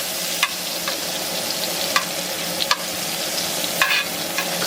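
Filet mignon steak sizzles in a cast iron skillet with a steady, fairly loud frying hiss. Soft scrapes or taps of a utensil sound a few times over the sizzle.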